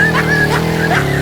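Car driving and skidding in a video game, a steady engine drone with a sustained tire squeal running throughout, loud and close with no talk.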